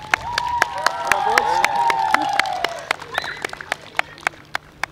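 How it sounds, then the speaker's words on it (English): Primary school children clapping together at a school visit, a sustained patter of many hands that thins into a few scattered sharp claps at the end, with voices murmuring under it. "big clap, lovely."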